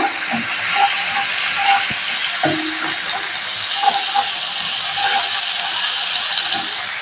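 Ground spices with salt and Kashmiri red chilli powder are stirred in a hot pan for an eggplant dish. A steady, close sizzling hiss runs throughout, broken by soft intermittent scrapes of the spoon.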